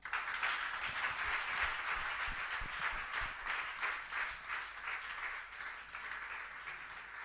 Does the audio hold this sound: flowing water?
no